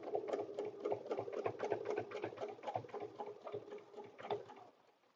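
Sewing machine stitching paper-pieced fabric, a quick rhythmic mechanical chatter of needle strokes running steadily at close range, with brief pauses before the stitching slows and stops.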